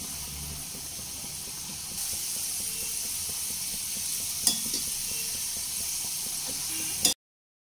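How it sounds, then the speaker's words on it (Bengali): Shredded potatoes frying in hot oil over a medium-high flame while being stirred, giving a steady loud sizzle throughout with a brief sharp clatter near the middle, then a sudden cutoff to silence at the end. "এবার খুব সাবধানে তেলের মধ্যে দিয়ে দেব গরম তেলে।"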